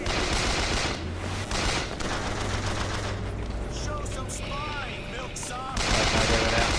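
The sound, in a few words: gunfire in the video game Bioshock Infinite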